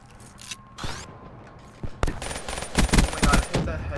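Repeated pistol shots in a shooter video game, sharp bursts clustered in the second half of the clip, loud and close amid other game effects.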